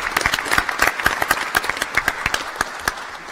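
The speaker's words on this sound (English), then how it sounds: "let's give them a round of applause" A crowd applauds with steady, dense clapping that stays loud for a few seconds before easing slightly toward the end.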